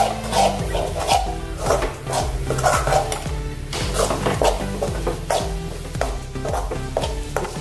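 Kasuri methi stirred and frying in a pan with drumstick vegetable, steady clatter and scraping of a spoon against the pan with a soft sizzle underneath, repeated rhythmic stirring strokes throughout.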